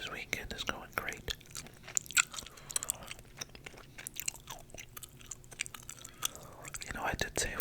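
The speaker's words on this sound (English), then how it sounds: "And the gum chewing sounds ain't half bad either." Close-up gum chewing with moist smacking and crisp clicks in a continuous, uneven rhythm, loud and intimate against a quiet room, with faint whispered talk mixed in beneath.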